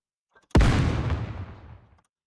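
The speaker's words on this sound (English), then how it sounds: "A series of explosions erupt out of Behemoth's abdomen and head." A single deep explosion bursts abruptly in the game Nikke: Goddess of Victory, a loud booming blast with a rumbling roar that fades over about a second and a half.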